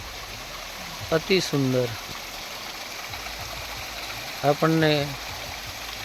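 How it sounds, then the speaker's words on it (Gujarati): A stream and small waterfalls at Ratanmahal give off a steady, even rush of flowing water throughout, while someone speaks briefly twice over it. "બીજું એક આ ઝરણું છે અને નાના સરખા ધોધ પડી રહ્યા છે।"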